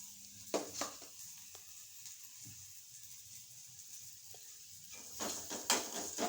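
Mustard seeds spit and sputter in hot oil on a stove, faint crackling pops scattered over a low sizzle, with a denser cluster of pops near the end and no voices.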